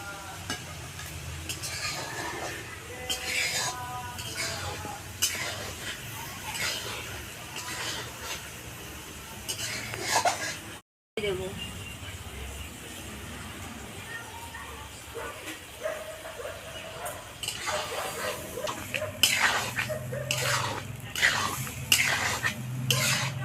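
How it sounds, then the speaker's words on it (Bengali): Goat meat stir-frying in a pot as hot water is added a little at a time, with spoon scrapes and pan clatter, dogs barking repeatedly nearby and faint voices in the background. "গরম জলটা অল্প অল্প করে দিয়ে কষাতে হয়"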